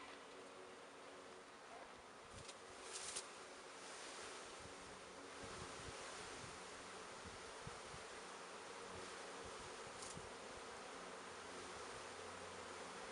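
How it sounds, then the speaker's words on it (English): A steady, dense buzzing drone of many bees in a hive fills the scene continuously, with faint wind rumble and occasional soft knocks, no voices. "There's a lot of bees."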